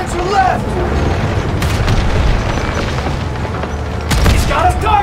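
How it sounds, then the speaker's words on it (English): German tank cannon fire in Call of Duty: WWII: several heavy booms land amid constant battle rumble, with voices mixed in. "German armor shooting us from behind"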